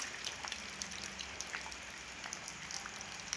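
Rain falls at night on a road, a faint, even patter of drops hitting surfaces with scattered louder taps and no voices.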